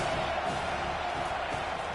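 A stadium crowd at a college football game roars in a steady, continuous wall of noise, with no distinct breaks or individual shouts standing out.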